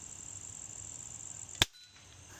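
A single sharp, fairly quiet shot from a budget pellet pistol fired downrange in a backyard, a brief crack standing out against a steady background hiss and hum, followed by a moment of near silence.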